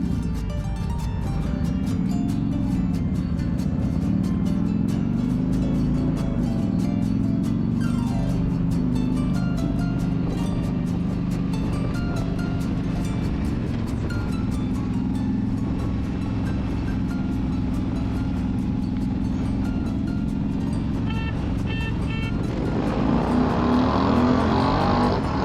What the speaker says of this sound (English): It's a tuned bike.